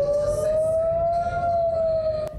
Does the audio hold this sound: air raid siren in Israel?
yes